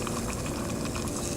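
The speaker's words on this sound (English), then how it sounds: "And so you can see that's bubbling and churning pretty good right now" Hot acetone, warmed in the sun on a roughly 90-degree day, bubbles and churns in a steady, close-up fizzing roil with no talking.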